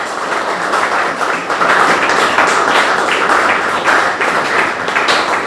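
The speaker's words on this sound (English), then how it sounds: "which I want you to give them a huge round of applause" An audience applauding for the BVI Chess Federation at an event in the British Virgin Islands, a dense burst of many hands clapping at once, sustained and fairly loud.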